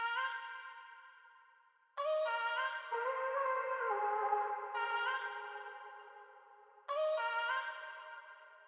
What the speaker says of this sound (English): I chop those vocals up and together they sound like this.